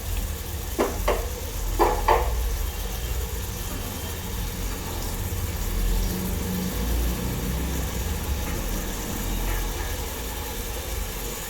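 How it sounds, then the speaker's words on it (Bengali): Egg korma masala sautéing in a pan with a splash of water added, a steady low sizzle and hiss with a few soft stirring clinks near the start, continuing evenly without speech. "জল দিয়ে আবারও একটু কষিয়ে নিব"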